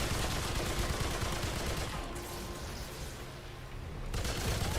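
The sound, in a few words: gunfire emptying a magazine in video game Remnant 2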